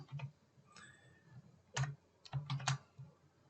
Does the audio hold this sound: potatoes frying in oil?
no